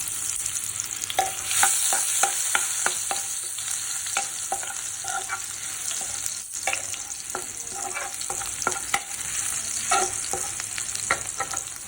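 Crushed garlic sautés in a pan, a continuous bright sizzle broken by repeated spatula scrapes and taps, fairly close and steady, with no talking.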